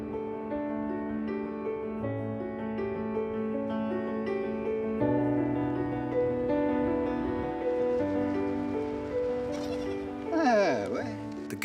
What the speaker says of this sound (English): The goats roam from oasis to oasis, from rock to rock.